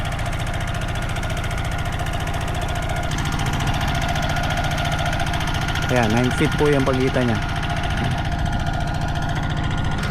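A farm machine engine runs steadily during land preparation for bitter gourd planting, a loud, rough continuous drone with a person talking over it partway through.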